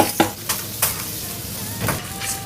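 Onion stir-fried in a wok with minced garlic and green and red chili pieces, giving a steady sizzle broken by several sharp scraping stir strokes, close and fairly loud with no talk.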